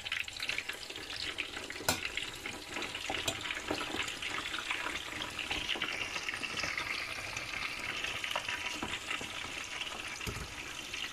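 Pork and beef meatballs frying in oil in a pan, a steady faint sizzle and crackle with occasional sharper pops, close and continuous with no talking.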